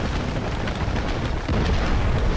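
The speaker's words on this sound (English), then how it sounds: "That was a pretty sweet explosion." A huge explosion in the shooter Battlefield 4, a loud sustained roaring blast of rumbling noise with crackling debris that swells slightly toward the end.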